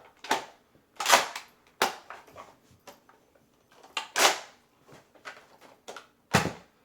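A Nerf Doomlands Double Dealer blaster fires with only one clip loaded, giving several sharp close snaps spaced irregularly among softer mechanical clicks and handling noises.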